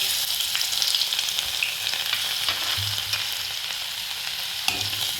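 Crushed garlic sautés in hot oil with a pinch of asafoetida for a green onion dish, a loud dense crackling sizzle close by with occasional spatula knocks and stirring, no voices.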